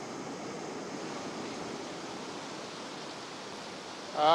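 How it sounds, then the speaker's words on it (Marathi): The flooded Surya river in Palghar district rushes past in a steady, dense roar of fast water, even and unbroken, with a brief louder sound right at the end. "सूर्या नदीला पूर आलेला आहे, पाण्याची पातळी सातत्याने वाढताना दिसते"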